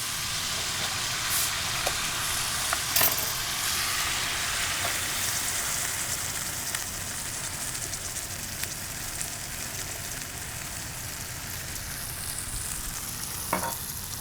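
Coke hitting a hot pan of sizzling onions, garlic and jalapeno with sesame oil, a steady bright hiss and crackle that runs throughout, broken by a few sharp pops, with no talking.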